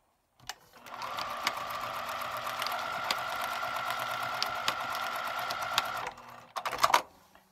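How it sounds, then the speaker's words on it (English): Sewing machine stitching fabric for foundation paper piecing runs in one steady, close whirring burst lasting several seconds, then a few quick stops and restarts at the end, with no talk. "I'm just going to pull that back and stitch it on."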